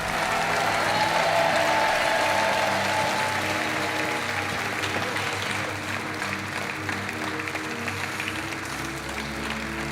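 Studio audience at a French TV game show applauds steadily as two contestants walk off, a dense sustained wash of clapping with crowd noise that eases slightly toward the end.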